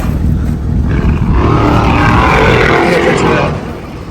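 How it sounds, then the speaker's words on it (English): Monster trucks rev their engines in the background outdoors, a steady, rumbling roar that swells through the middle and fades slightly at the end. "Monster trucks are going on behind this guy, so probably what you're hearing."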